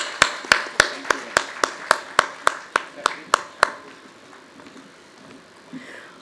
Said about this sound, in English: Let's once more, big round of applause.